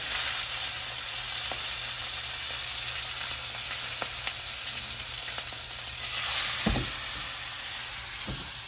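Steak with its fat cap down sizzles and fries in butter in a hot pan, a steady close crackling hiss throughout with a few brief pops and clatters.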